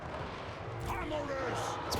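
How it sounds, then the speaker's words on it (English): Grape shot cannon fire booms across a battlefield in the video game Total War Warhammer 3, dense rumbling blasts and crackle forming a loud continuous wash of battle noise over about two seconds. "Gotta love that Grape Shot."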